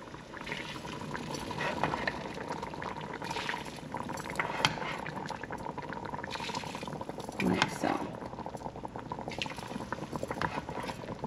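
Turkey neck cooking liquid is poured into a roux base in a pot for gumbo collard greens, giving steady bubbling and sloshing liquid sounds with occasional splashes, close and moderately loud throughout.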